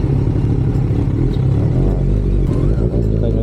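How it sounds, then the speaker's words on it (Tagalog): Engine and exhaust of a 2021 Kawasaki Ninja 1000SX inline-four motorcycle, a steady, fairly loud low rumble running close by throughout with slight clattery texture and no clear rev rise. "Hindi naman siya ganun ka-aggressive, lalo yung tunog ng tabusin natin."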